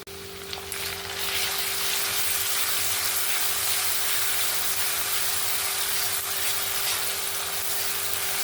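Crushed garlic and onion paste hitting hot oil in a pan with fried onions, a sudden loud sizzle that swells after a second and holds as a steady close hiss, no talking.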